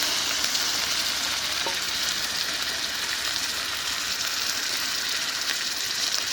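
Snakehead fish pieces sizzle steadily in a pan of hot oil with fried onions, a loud continuous frying hiss with no talk.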